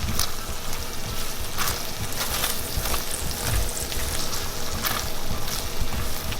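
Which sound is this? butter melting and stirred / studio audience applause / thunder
butter melting and stirred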